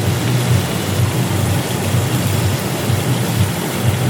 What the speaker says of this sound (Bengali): এবারে মাছটা একটু এপিট ওপিট করে একটু ভেজে নিতে হবে।